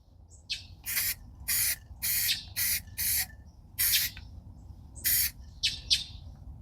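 Spray paint hissing onto truck parts in short, repeated bursts of about a second each, close and loud, with quiet gaps between passes and no talking.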